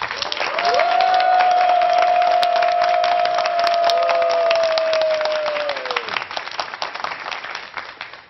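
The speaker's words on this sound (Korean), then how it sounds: "우리 김현숙 원장님을 큰 박수로 모시겠습니다." Audience applause welcoming a lecturer onto a Korean TV lecture stage, dense clapping sustained for several seconds over a held musical tone, then thinning out toward the end.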